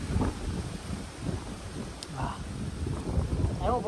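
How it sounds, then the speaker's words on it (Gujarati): Wind gusts across an open forest viewpoint at Matheran's sunset point, making a steady low rumble and buffeting on the microphone, with brief voices over it. "આવ્યો પવન હવે."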